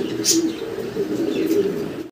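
A pair of desi golla pigeons coo close by, with low, rolling throaty calls running continuously and a couple of higher chirps mixed in.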